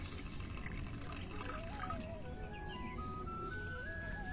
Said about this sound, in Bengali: ছাঁকনির সাহায্যে জলটা আমাদের ছেঁকে গাছে প্রয়োগ করতে হবে